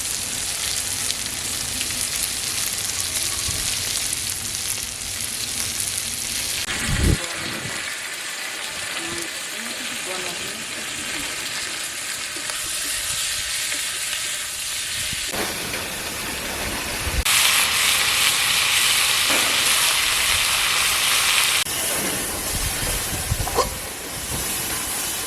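Chicken pieces frying in a pan with onions, a steady broad sizzle with hissing steam that surges louder partway through, with occasional stirring clatter and no talk.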